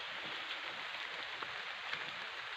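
Steady rain hisses over fields near a small irrigation dam, even and fairly close, with no voices.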